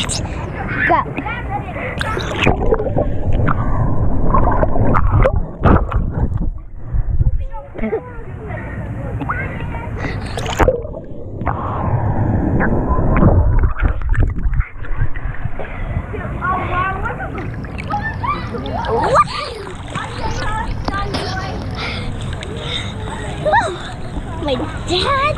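Splashing water and swirling strokes from people swimming in a pool, with excited voices chattering over the wet churn and sharper splashes across the stretch.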